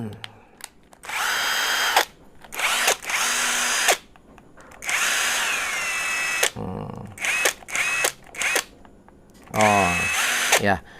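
A Total TIRLI2002 20-volt cordless impact driver runs in repeated bursts of whirring at varying speeds, loud and close, with short pauses between triggers.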